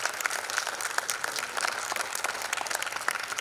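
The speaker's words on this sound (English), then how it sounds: "Please applaud for yourselves as well." Audience applause at a quantum computing symposium, a steady wash of many hands clapping at moderate level for the whole stretch with no voices over it.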